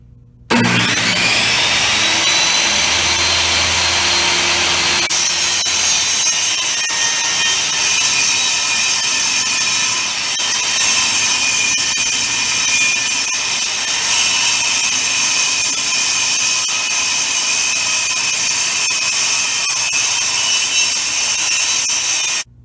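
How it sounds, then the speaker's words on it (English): A table saw fitted with an old blade rips through MDF. A loud, sustained high-pitched whine and cutting roar runs close and unbroken for about twenty seconds after the motor spins up at the start. "I changed the blade of my table saw to an old one because I don't like to cut MDF on my good saw blade"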